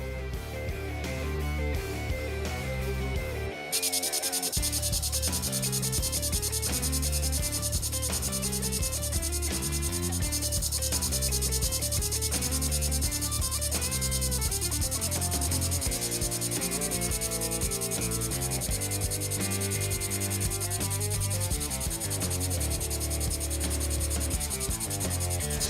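Handheld laser welder with rotary assist welding stainless steel pipe to an exhaust flange, giving a steady, continuous mechanical rubbing and whirring drone that runs unbroken for the whole stretch after a brief quieter start.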